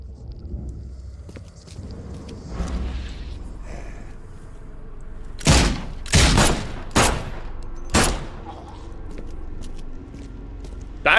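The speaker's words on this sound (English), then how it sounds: "I actually get shot?" Gunfire in The Sinking City video game: a few loud, sharp shots burst out in the middle of the clip over a low ambient rumble and faint footsteps, with no talk.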